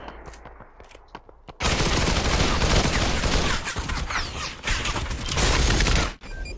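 Sniper and automatic gunfire in the Population One VR battle royale. After a quiet stretch of scattered clicks comes a loud, dense volley of shots lasting several seconds, then it cuts off abruptly.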